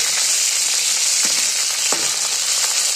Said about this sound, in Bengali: এইভাবে উল্টে পাল্টে একদম আরেকটু পাতাটা ভালো মতো ভেজে নেবো